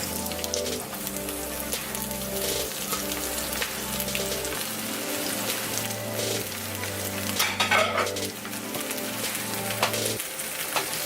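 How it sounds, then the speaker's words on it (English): Vegetables sizzle and crackle in hot olive oil in a pan for a home hibachi dinner, a dense steady frying hiss heard close up while music plays underneath. "Alright, now that my olive oil is nice and hot, I'm going to be putting my veggies in."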